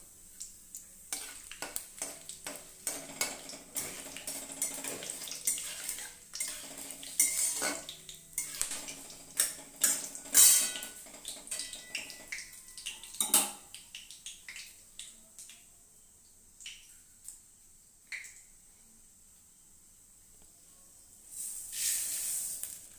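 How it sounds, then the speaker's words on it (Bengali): A utensil scrapes and stirs rice frying in a pot with bay leaves and garam masala, giving irregular clinks and scrapes over a soft sizzle, close by and moderately loud, with a louder burst near the end. "এবার শুধু কাজ হচ্ছে ভাজা চালটাকে শুধু নাড়াবো"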